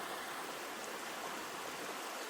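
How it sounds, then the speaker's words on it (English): Rapids on Cougar Creek, a clear-water creek running past a rural property, give a steady, full-bodied rush of flowing water, constant and unbroken, with no voices present. "we have Cougar Creek rapids on my property"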